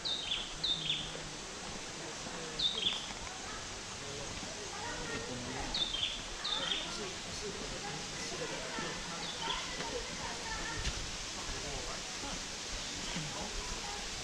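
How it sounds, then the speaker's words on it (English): A bird calls several times with short high chirps, fairly distant, over steady outdoor noise and low murmuring voices, in Borneo forest near Poring hot springs. "Hear a bird."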